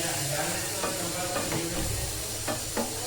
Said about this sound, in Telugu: అది వేసిన తర్వాత మనం సిమ్లో పెట్టుకొని ఇలా దగ్గరికి ఫ్రై చేసుకోవాలి